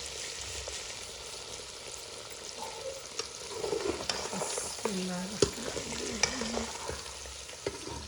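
Beef for nihari sautéing in a pot, with steady sizzling and frying under repeated stirring scrapes and a few sharp clinks of the spoon against the metal, close and moderately loud.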